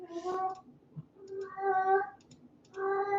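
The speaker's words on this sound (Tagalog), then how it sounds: "Narinig niyo yung pusa ko?" A pet cat gives three clear, close meows of rising then falling pitch, separated by short pauses, with faint keyboard clicking in a quiet room.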